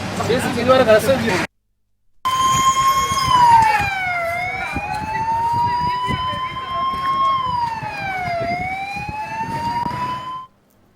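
A fire engine siren wails loudly and continuously at a civil supplies warehouse fire in the Metpalli market yard, Jagtial district, rising and falling in slow sweeps after a short burst of other noise and a brief silence.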